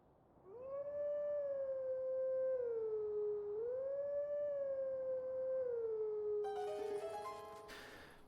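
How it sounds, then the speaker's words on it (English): Wolf Link howling in Twilight Princess HD, one long sustained melodic howl rising and falling in pitch over several seconds, clear and alone, with a burst of game sound effects at the end. "Do some howling."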